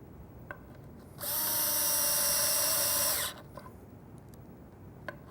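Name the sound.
drill driving screws into a cabinet face frame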